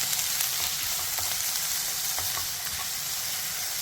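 Curry leaves and green chilies sautéing in oil for an egg roast, a dense, even sizzle with light stirring ticks throughout, close and unbroken, no speech.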